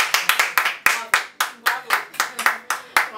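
A small audience clapping in sharp, separate bursts, roughly a dozen distinct claps at a steady rhythm, fairly close and alone with no talk over them.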